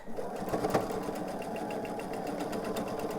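A sewing machine runs steadily and slowly, stitching quilt star blocks with a continuous motor whir and a fast, even needle tapping throughout.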